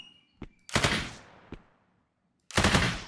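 Gunfire from a third-person shooter game built in Unreal Engine 5, aimed at an enemy: a short quiet shot, then a loud sharp burst, another faint shot and a final loud burst, separated by silence.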